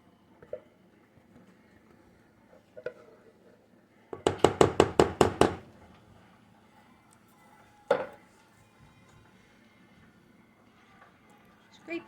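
A spoon or spatula scraping a small can out into a chicken broccoli casserole: a rapid burst of about six sharp metallic scrapes and knocks, followed later by a single clank amid quiet kitchen background.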